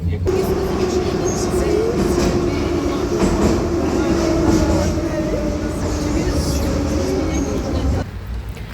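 A Kyiv metro train in motion, a loud continuous rumble with rail clatter and a droning whine under a voice, easing off near the end.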